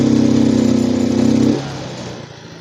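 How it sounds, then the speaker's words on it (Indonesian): A Yamaha Mio M3 scooter engine with a fuel fault hums at a steady rev under slow throttle, then drops abruptly to a lower, rougher idle partway through, close and loud. "sekarang kita coba gas secara perlahan ya"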